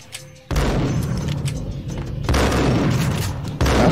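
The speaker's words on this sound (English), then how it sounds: "I got hit by a shotgun blast." Shotgun blasts boom in the Max Payne video game, three heavy reports arriving about every one to two seconds, each followed by a loud, rumbling sustained tail.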